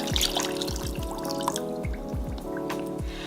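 Water being poured onto sugar for baklava syrup, a steady close trickle broken by repeated dripping plops, clear with no talking.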